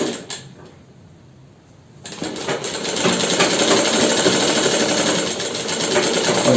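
A sewing machine stitches the gusset of underwear, starting quiet, then running as a loud, fast, continuous rattling hum for several seconds.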